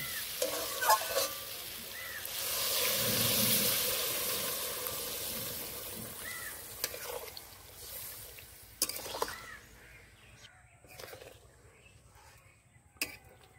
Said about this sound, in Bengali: বন্ধুরা সয়াবিনটা ভালো করে কষে নিয়েছি, এবার জল দিয়ে দেব।